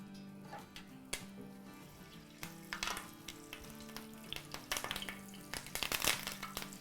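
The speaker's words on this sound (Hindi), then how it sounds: "इसको हम सौटे कर लेते हैं। कुछ कड़ी पत्ते डाल देते हैं" Curry leaves with cumin seeds and whole red chillies crackle and sputter in hot oil, a faint continuous sizzle with sharp pops that grow busier toward the end, no talk.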